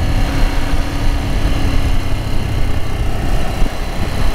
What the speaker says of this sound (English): I'm shifting through the gears here.